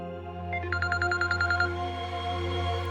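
Telephone dialing tones, a quick run of about nine short, evenly spaced beeps that stops after a second, over a steady low hum in a quiet room.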